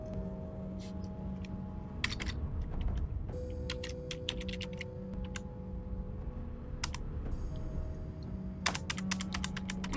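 Steady keyboard typing while playing Divinity II, with a dense run of clicks and key taps continuing throughout at a constant level over a low background hum.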